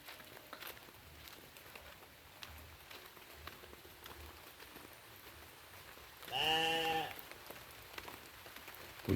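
Light drizzling rain falls in a West Java village, a soft, quiet patter throughout, with a brief bleat-like animal call partway through.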